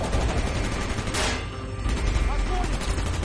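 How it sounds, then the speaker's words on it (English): Gunfire in the shooter game Call of Duty: Black Ops, a dense crackle of rapid shots with a sharp crack partway through, loud and continuous amid the game's battle noise. "Gunfire's drawing attention."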